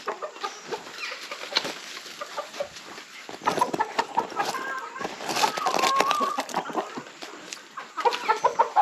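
Chickens cluck and chatter continuously at close range, with a rooster-like call rising in the middle and fluttery bird noises throughout.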